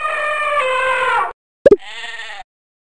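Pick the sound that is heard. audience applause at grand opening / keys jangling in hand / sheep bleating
sheep bleating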